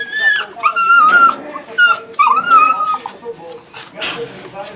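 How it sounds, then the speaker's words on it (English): Several Pomeranian dogs whimper and let out high, wavering yips and cries, close and fairly loud, in overlapping bursts with short pauses; a person talks over them. "These are Beth's dogs."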